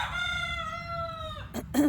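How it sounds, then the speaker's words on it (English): A rooster crows once nearby, a long drawn-out call that trails off, followed by a couple of quick clucks. "So my roosters are saying hello this morning."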